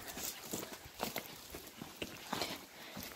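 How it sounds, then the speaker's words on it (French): A pony walking nearby, its hooves clip-clopping in an uneven series of soft thuds, fairly faint and close, with no speech over them. "Regardez, il y a notre poney Total, là"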